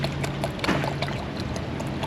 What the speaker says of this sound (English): let's just go ahead and fill this up until it stops taking the coolant